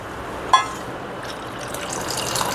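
Tamarind water poured into a cooking pot while making paruppu rasam, a steady gushing splash that runs on for a couple of seconds, close and fairly quiet, after a brief sharp knock at the start.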